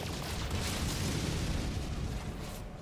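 Photon cannons fire in No Man's Sky, producing a sustained run of muffled, rumbling blasts and pops at moderate loudness with no talking.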